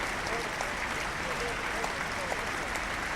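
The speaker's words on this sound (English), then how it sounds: "The crowd rising to Peter Willey" A cricket crowd at an England versus Australia Test match in 1981 applauds a catch, a sustained wash of distant clapping that runs steadily throughout, with a commentator speaking over it.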